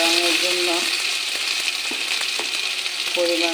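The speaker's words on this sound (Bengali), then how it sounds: "এখন ভালো করে ফোড়নটা কষে নেব" Onion, garlic, green chillies and Kashmiri chilli frying in oil with turmeric and salt for a spiced fish and greens dish, a steady close sizzle with occasional stirring clatter, no talk.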